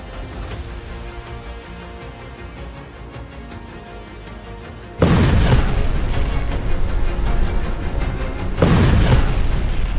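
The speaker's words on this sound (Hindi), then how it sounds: "धमाका नंबर 2" A low rumble gives way to a sudden, heavy explosion in southern Lebanon whose roar sustains, then a second loud blast hits near the end.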